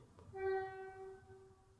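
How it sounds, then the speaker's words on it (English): A train horn sounds once in the distance, a steady tonal blast that swells and then fades over a low rumble of rail traffic. "That was a train, if you heard that ding"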